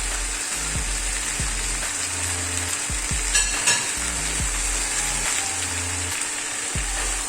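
Indo-Chinese beef chilli with celery is stir-fried in a pan, a continuous close sizzle broken by repeated scraping strokes of a spatula, with no talk.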